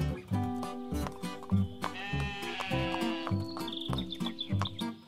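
Sheep bleat loudly several times over a steady rhythmic beat, with a few higher chirping duck calls near the end, in a 3D animated farm cartoon.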